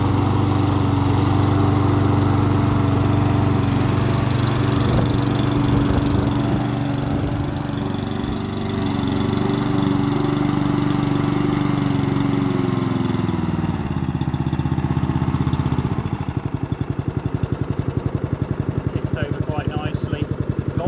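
A Mountfield S461PD petrol lawnmower engine runs loud and close with a steady droning note, then turns rougher and more pulsing near the end.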